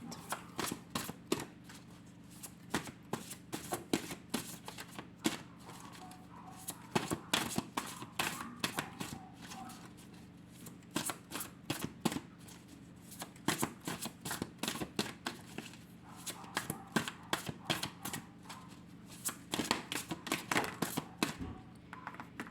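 Tarot cards are shuffled repeatedly at close range, quick crisp riffling bursts and flicks in an irregular rhythm with short pauses between, clear against a quiet room with no talking.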